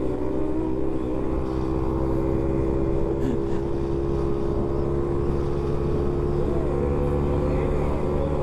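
Motorcycle engine bouncing off the rev limiter while fleeing, a steady loud drone with rough low rumble and wind noise running throughout, no pauses.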